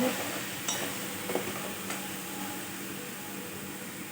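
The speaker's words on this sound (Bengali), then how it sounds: "ভালোভাবে ভেজে নিচ্ছি লবণটা দিয়ে দিই" Mushrooms frying in a pan and being stirred: a steady broadband sizzle throughout with occasional soft scrapes and clinks of a spoon against the pan, close and even, with no talking.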